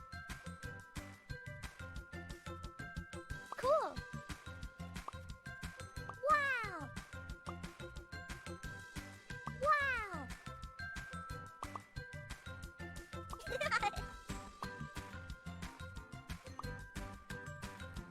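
A cartoon kitten in a girls' house-cleanup video game meows four times at spaced intervals over a steady, jingly game music loop.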